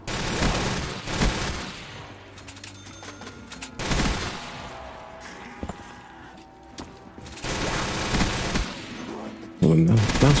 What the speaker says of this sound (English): These guns are so loud